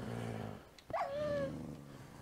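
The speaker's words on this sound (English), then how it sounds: "I hear another mad wolf." A hostile wolf in Minecraft with the Tekkit Lite modpack lets out one short, close growl-like snarl with a falling whine, set against a low game background hum.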